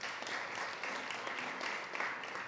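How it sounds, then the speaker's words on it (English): An audience claps steadily for a couple of seconds at a Food Tank panel event at SXSW, the applause soft and somewhat distant. "Give her a round of applause."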